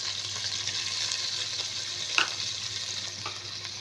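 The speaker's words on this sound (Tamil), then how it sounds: "இப்போ இந்த எண்ணெயிலே நல்லா புதினாவும் கொத்தமல்லி கொஞ்சம் சேர்த்துக்கலாம்" Mint and coriander leaves fry in hot oil with a steady, close sizzle and faint stirring clicks, including one sharp tap near the middle.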